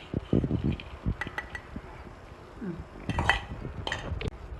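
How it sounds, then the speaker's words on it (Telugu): A spoon scrapes and clinks against a pot while rice is mixed for brinjal potato biryani, giving irregular metallic knocks and clatters, some sharp and close, with quieter stirring between them. "ఇలా అన్నంని కలుపుకోవాలి"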